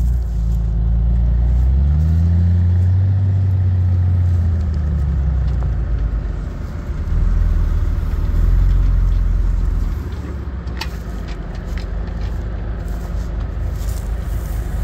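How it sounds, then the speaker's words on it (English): A white dump truck arrives with another load of dirt, its engine rumbling low and loud as it rolls in, swelling and then easing off with a steady drone. "Here we go with the white truck."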